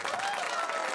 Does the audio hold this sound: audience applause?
yes